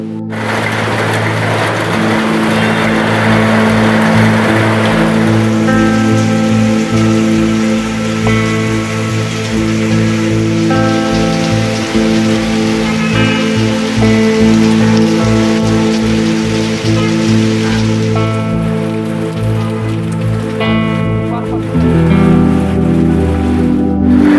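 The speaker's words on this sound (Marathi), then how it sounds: "आज कोल्हापूरमध्ये सायंकाळपासूनच मुसळधार पावसाने हजेरी लावली" Heavy unseasonal rain pours down steadily and loudly at Venus Corner in Kolhapur, with a low droning hum running beneath it and no voices.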